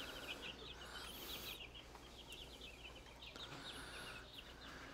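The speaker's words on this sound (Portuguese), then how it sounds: "As galinhas para botar ovo." Chickens on a farm clucking, with rhythmic bursts of clucks recurring at a moderate distance over steady background noise and a brief higher squawk, with no talk.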